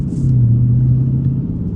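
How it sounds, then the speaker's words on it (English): A Dodge Challenger SRT 392 muscle car engine in third gear holds a deep, steady rumble, a low drone at cruising speed, close and loud throughout. "I love the sound of this car."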